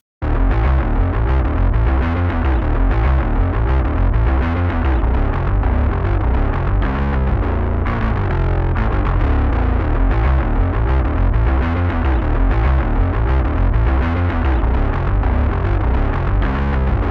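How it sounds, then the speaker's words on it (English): A music mix runs through the JST Heat plugin, with compression on the low band and distortion on the mids and highs, giving a dense, gritty, saturated sound that plays loud and continuous throughout. "The bands on this one are compression in the low and distortion in the mids and highs."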